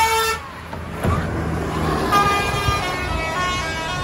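A loud bus horn toots and honks repeatedly over rumbling traffic noise, close by, with no talking.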